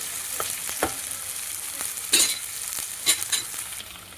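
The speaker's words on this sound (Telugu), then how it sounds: "ఆనియన్ పేస్ట్ మంచిగా ఫ్రై అవుతుంది చూడండి" Onion paste fries in a pan for a tamarind fish curry, a loud continuous sizzle close by with a handful of sharp stirring scrapes and bursts scattered through it.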